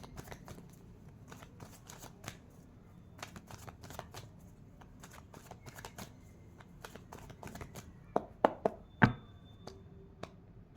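Tarot cards are shuffled by hand in a quiet room, producing a quick run of soft riffling clicks and flicks that ends in a few sharper snaps and taps near the finish, faint and close with no speech.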